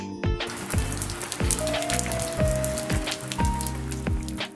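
Steady rain patters on a surface in a dramatized scene, a continuous close hiss with scattered louder drops, alone without voices.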